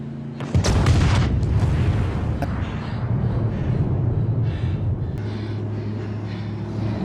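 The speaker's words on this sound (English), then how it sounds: "the explosion was that bad dynamite that they left behind" An explosion of leftover dynamite in The Walking Dead, a heavy boom that hits suddenly and then rolls into a long, loud low rumble, with a sustained drone underneath.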